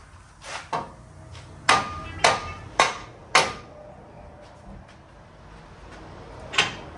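Several sharp metallic hammer strikes ring out while removing a CV axle on a 2009 Chevrolet Trailblazer, four in quick succession after a couple of lighter taps, with another single blow near the end.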